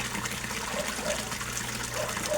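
An underwater pump in a koi tank churns water into bubbles, giving a steady close bubbling and trickling wash with faint gurgles throughout.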